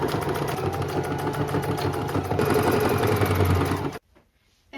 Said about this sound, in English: I'm just going to sew along the bottom here